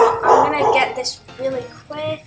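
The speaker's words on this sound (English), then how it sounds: "Sorry if you hear my dog in the background." A pet dog barks in the background of a home room, a few short yips sitting under steady talk from a nearby voice.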